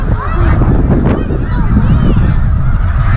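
A large flock of migrating snow geese honks at Middle Creek, a dense, loud chorus of overlapping calls over rumbling wind noise, continuous throughout with no distinct speech.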